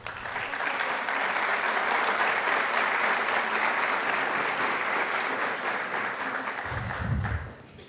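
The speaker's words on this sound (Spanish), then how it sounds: "a quienes recibimos con un fuerte aplauso." An audience at an international congress on justice gives a sustained round of dense, steady applause that carries on for several seconds before tapering off as a voice begins to speak.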